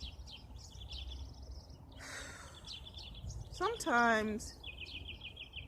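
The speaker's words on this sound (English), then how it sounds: "I love to hear the birds. Such a beautiful sound." Birds chirp and call outdoors in short repeated bursts, fairly faint and in the background, while a person briefly speaks and another voice-like sweep rises over it.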